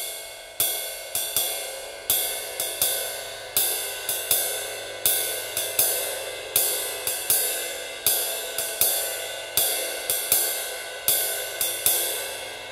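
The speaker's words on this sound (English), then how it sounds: "So if we play it very, very slowly on just the cymbal, it sounds something like this." A jazz ride cymbal beat played very slowly on the cymbal alone: bright metallic pings in a regular swung pattern, each strike ringing out and decaying before the next, with no voices.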